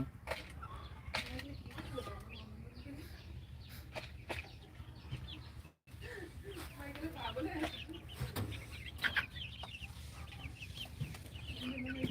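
Chickens on a poultry farm cluck and murmur steadily, many birds at once with scattered sharper calls, fairly faint and broken by a brief gap.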